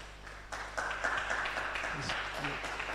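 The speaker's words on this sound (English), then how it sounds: "Please, let's give him a round of applause." Audience applause in a physiology conference hall, a broad steady wash of clapping that holds at an even level throughout, mixed with some voices.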